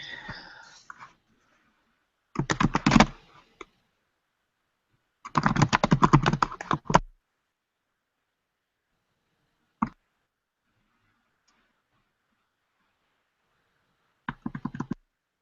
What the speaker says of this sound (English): You typing it?